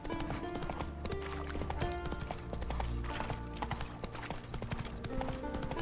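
A horse gallops in The Witcher 3: Wild Hunt, its hoofbeats a fast, steady clip-clop rhythm, close and continuous over a low game soundscape.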